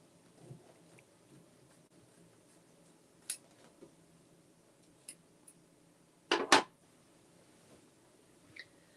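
Scissors snip through a fabric seam allowance at a quilting workshop: a handful of crisp, close cuts spaced irregularly across quiet room tone, with a louder double snip near the end and no talking.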